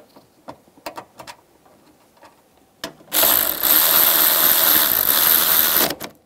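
Fasteners being tightened on a 2004–2009 Toyota Prius rear strut assembly: scattered clicks and small metallic taps, then a loud, continuous whirring burst from a power tool running about three seconds before cutting off.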